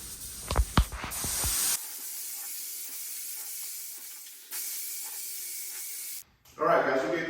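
Bursts of hissing spray from a paint gun with a 1.3 tip at about 23 psi, applying base coat to a truck camper topper, long sustained blasts separated by brief pauses, with a few knocks and handling sounds at the start.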